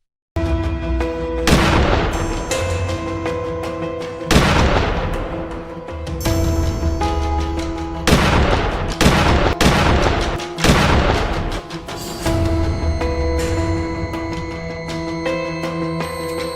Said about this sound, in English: With a steady hand, a clean shot rings out.